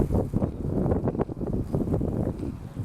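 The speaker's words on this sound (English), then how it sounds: "It's just a light breeze." Steady wind rushes and buffets against the microphone, a low rumbling gusty noise that fills the whole stretch, outdoors during a camping stove test.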